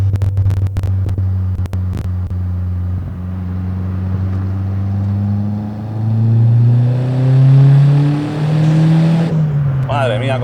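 Fiat Uno Turbo, a roughly 125 hp, 900 kg hatchback, accelerating hard. Its engine note climbs steadily in pitch and loudness through the gears, heard from inside the car, with a brief shift dip before the pull resumes.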